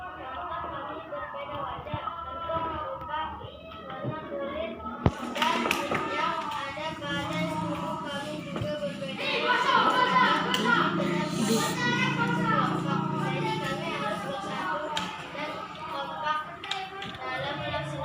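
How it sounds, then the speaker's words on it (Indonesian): A classroom breaks into clapping and tapping for the second group, a steady patter of many small hands mixed with children's chatter and voices, swelling midway and continuing to the end. "kasih tepuk tangan untuk kelompok 2 ya"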